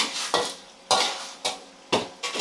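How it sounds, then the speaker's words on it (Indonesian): Water spinach being stir-fried with oil in a pan, a spatula striking and scraping the pan in four or five sharp, regular strokes over a steady sizzle, close and alone. "Buat menumis kangkung."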